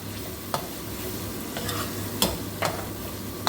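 Mustard green stems fry in a pan under a constant sizzle while a spatula stirs them, making a few sharp scrapes and clacks against the pan over a few seconds. The sound is close, with no speech.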